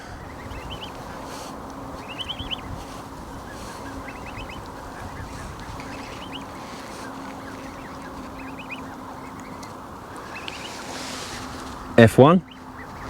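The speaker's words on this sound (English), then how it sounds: "I've got about 1 million geese behind me" Distant geese honk faintly in scattered bursts over steady wind noise, with a brief spoken word and a loud close knock near the end.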